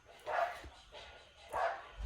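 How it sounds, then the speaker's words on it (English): Dogs in a home barking excitedly after a doorbell rang, two bursts of barking spaced about a second apart at moderate distance, with faint background voice. "Oh no, the doorbell went off, so now the dogs are going crazy."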